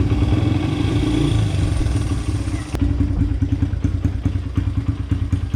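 A free, older dirt bike engine fires up and runs without choke, a loud close rumble that settles into a steady idle with rhythmic thumping pulses.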